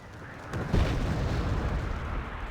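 Tactical missiles from a Harrier GR7 strike in Wargame Red Dragon. A sudden blast is followed by a heavy, booming explosion that rumbles on under a steady roar.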